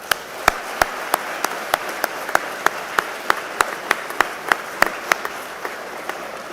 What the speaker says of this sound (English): Seniors, give all these people a round of applause if you would at this time.